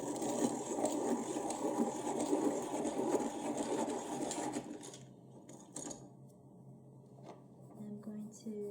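A Prismacolor colored pencil is turned in a pencil sharpener, giving a soft continuous grinding rasp for several seconds that stops abruptly, followed by faint small handling noises.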